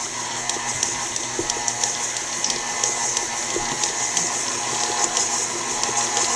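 A KitchenAid stand mixer beating peanut butter cookie dough, a steady whirring motor drone with a faint rhythmic ticking running continuously and fairly loud, with no voices.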